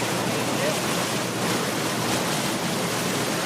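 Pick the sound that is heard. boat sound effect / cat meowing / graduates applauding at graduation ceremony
boat sound effect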